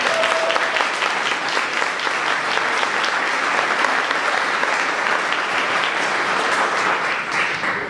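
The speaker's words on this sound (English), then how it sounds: "Let's give Fred another round of applause." Sustained audience applause at an anniversary reception fills the room, dense and even from start to finish with no pause, fairly close and loud.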